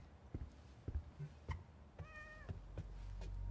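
A single cat meow in the horror video game The Medium, one short clear mew amid soft footsteps and quiet ambient game sounds.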